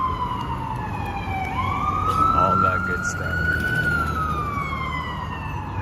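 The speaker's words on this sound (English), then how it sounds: "Ambulance." An ambulance siren wails through the streets of Manhattan, New York City, with one long rising and falling tone that carries clearly over the traffic hum on a Sunday afternoon. Someone talks briefly over it.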